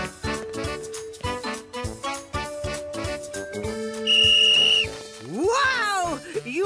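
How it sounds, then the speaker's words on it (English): A toy whistle in a Mickey Mouse Clubhouse cartoon toots out over bouncy music, with a sustained shrill note followed by sliding, wavering whistle tones near the end, loud and clear. "It's my orange whistle."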